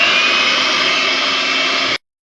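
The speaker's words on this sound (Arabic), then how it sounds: "وهنضرب بالمضرب الكهربائي" An electric hand mixer on its highest speed whips a gelatin, honey and sugar mixture into a thick cream, giving a loud, steady motor whir that holds evenly for about two seconds and then cuts off abruptly.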